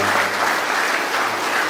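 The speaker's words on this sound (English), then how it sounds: "So a big round of applause for the person who just gave the speech before me." At a youth engagement program, an audience gives a dense, steady round of applause for the previous speaker in a brief, fairly loud burst with no clear individual claps.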